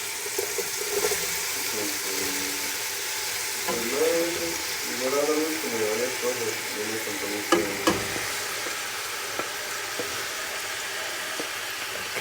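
Onions and other vegetables sizzle steadily in a pan, a continuous close frying hiss with some stirring clatter and a few brief clinks near the end, with faint voice briefly in the background.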